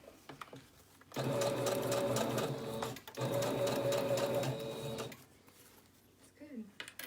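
Sewing machine stitching in two steady bursts of about two and four seconds each, fairly loud and close, with a short pause between and quieter handling noise and brief talk before and after.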